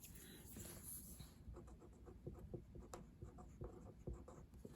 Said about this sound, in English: So we draw a line that's going to represent our mirror.